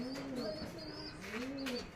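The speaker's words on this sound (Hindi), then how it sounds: "वहाँ पे भी देखो हर जगह कबूतर" Pigeons cooing close by at a city building in India, a steady run of soft, rolling coos repeating through the whole moment with a few faint higher chirps above them.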